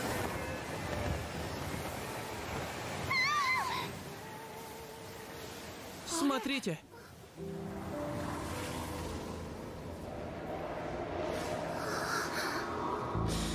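Ocean waves wash and surge in a Shield Hero anime episode, a steady broad rush with a brief louder splash midway; one short spoken word and faint voices sit under the surf.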